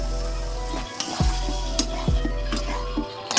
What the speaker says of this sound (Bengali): এটা একটু নাড়াচাড়া করে দুধ দিয়ে দিচ্ছি।